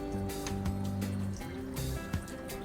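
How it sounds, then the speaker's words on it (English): Water trickles and splashes into a small garden pond, with a gentle, uneven running sound, soft drips and a few brief splashes, faint and close. "Isn't the sound of the water so calming?"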